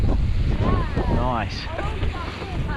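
Strong wind roars across the microphone throughout a bike ride near dirt jumps, with someone speaking briefly over the steady gusting.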